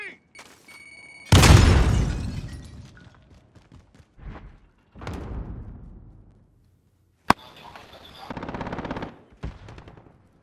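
Grenade explosion in the video game Call of Duty: Modern Warfare, a loud close boom with a long decay, surrounded by bursts of gunfire and a sharp crack.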